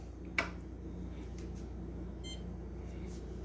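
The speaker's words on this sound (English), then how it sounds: "there's some little beep noise and it is ready to be used" A newly installed Maytag dishwasher gives a single short, sharp beep after being powered on, followed by a quiet steady room hum.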